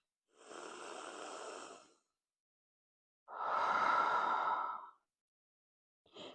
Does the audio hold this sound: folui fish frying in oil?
no